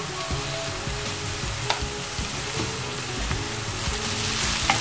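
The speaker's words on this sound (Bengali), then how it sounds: "পেঁয়াজটা জাস্ট একটু ভেজে নিতে হবে বেশি একটা ভাজবো না এর মধ্যে দিয়ে দিচ্ছি হাফ চা চামচ আদা বাটা আর হাফ চা চামচ রসুন বাটা" Onion frying in a pan with ginger and garlic paste for a chicken samosa filling, a steady close sizzle with faint scrapes of stirring and a couple of light clicks.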